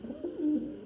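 A pigeon gives a single short, low coo, close by and alone, with no talk.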